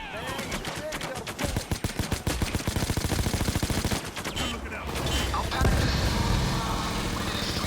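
Rapid bursts of Payday 2 gunfire, automatic rattling volleys and single shots, loud and close, with a voice shouting briefly over the shooting.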